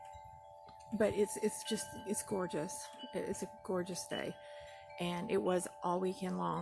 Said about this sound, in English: occasionally you might hear my wind chimes in the background a little there